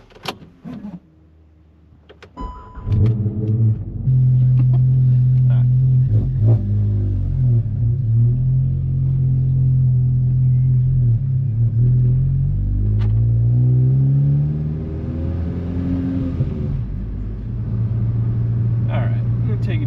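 A cold car engine starts and settles into a steady low rumble, rising briefly as the vehicle pulls away slowly through a neighborhood, with a few clicks and clunks early on.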